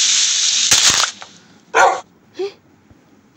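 A dog barks in the Minecraft video game: a few short, sharp barks spaced apart after a louder opening burst, with no talk over them.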